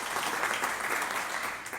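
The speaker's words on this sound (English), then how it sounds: "giving a round of applause" An audience at a university talk on animal cruelty laws gives brief, moderately faint applause, a steady wash of clapping that fades slightly toward the end.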